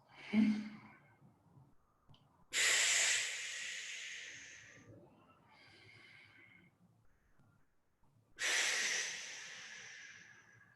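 Slow, deep breathing exercise: a long forceful exhale hisses out, followed by quieter inhales and another long loud breath out, close and alone without talk.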